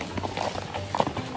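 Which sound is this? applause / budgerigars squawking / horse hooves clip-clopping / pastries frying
horse hooves clip-clopping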